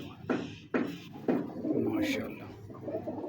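Pigeons coo close by in a steady run of low, throaty, rounded notes, with someone talking alongside them.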